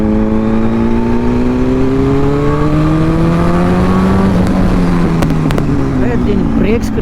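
A motorcycle with a slip-on exhaust revs hard and very loud nearby on a ride in Vizag. The engine pitch climbs steadily, then drops back and wavers as the throttle eases.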